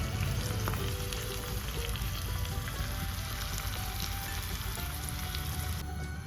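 Oil sizzles and crackles steadily over the whole stretch as hot tempering is poured onto farali bottle gourd dhokla, a close, busy frying hiss with scattered pops and no voices.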